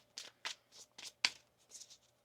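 Quick, papery riffling of tarot cards being shuffled in several short bursts, close and fairly quiet.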